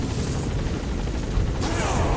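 A helicopter in Metal Gear Solid 5 comes in to land, its rotor chop throbbing steadily and loudly throughout, with a brief burst of added noise partway through.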